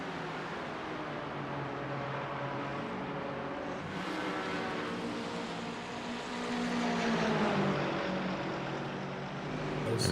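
MiniMite sportscars race at Phillip Island circuit, climbing Lukey Heights toward the hairpin; a steady, fairly loud drone of several engines swells and shifts pitch as the pack passes.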